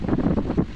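Wind gusts buffet the microphone at a lighthouse, a close, loud rumbling with uneven low bursts over a brief moment.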